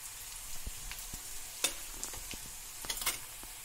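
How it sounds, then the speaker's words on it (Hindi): Turmeric, red chilli, coriander and garam masala roasting in a pan for bathua kadhi, a soft, low sizzle with occasional light clicks and scrapes of a stirring spoon, faint and close. "मसालों को थोड़ा भूनेंगे।"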